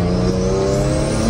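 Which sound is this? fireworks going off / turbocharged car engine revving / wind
turbocharged car engine revving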